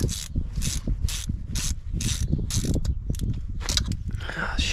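Ratcheting and mechanical clicks as a grabber tool works spark plugs out of a BMW 335i engine, with repeated bursts of hissing rasp in a steady rhythm, close and fairly loud.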